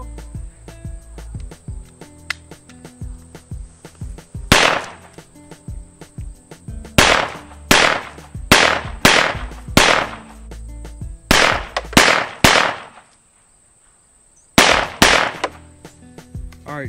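A semi-automatic pistol firing Pyrodex black powder rounds outdoors: loud, sharp shots in irregular bursts of two to four, with a short silent gap and insects chirping steadily in the background.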